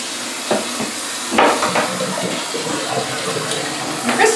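Tap water runs steadily over a silver Persian cat being rinsed in a sink, a continuous close splashing rush with brief louder spatters as the fur is worked.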